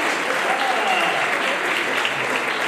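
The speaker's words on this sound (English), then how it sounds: "Please give them a big round of applause." Audience applause fills a launch event for a 10K running race in Bengaluru, steady dense clapping throughout at a loud, even level with faint voices mixed in.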